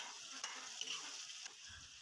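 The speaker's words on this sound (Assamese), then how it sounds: "ইয়াত দি ল'ম শুকান মাছখিনি, অকণমান ভাজি ল'ম যাতে কেঁচা গোন্ধটো যায়" Dried fish and tomato fry in oil in a pan, giving a soft, steady sizzle with light stirring scrapes.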